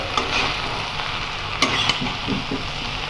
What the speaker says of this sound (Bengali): আর সবজিগুলো কষানি দিতেছে